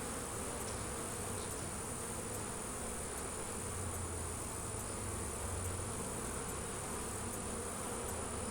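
Honeybees on a hive frame buzz continuously in a low, droning hum, a close swarm with steady loudness and no voices over it.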